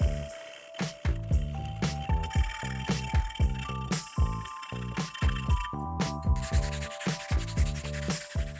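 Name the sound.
sanding metal welds with a strap of emery cloth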